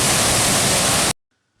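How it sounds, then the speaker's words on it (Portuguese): The Cachoeira do Prata waterfall in Juscimeira roars as a loud, steady broadband rush of falling water, close and continuous, before cutting off abruptly into near silence. "Linda, linda, linda cachoeira."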